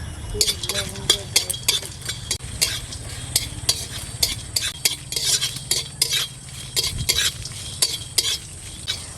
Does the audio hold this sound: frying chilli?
yes